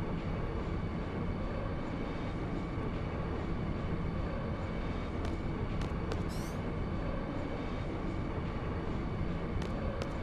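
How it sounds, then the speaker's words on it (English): Steady rumble of a train ride in the Final Fantasy 8 video game, a continuous clattering drone with faint high ticks, loud and unbroken with no voices. "We're on the train."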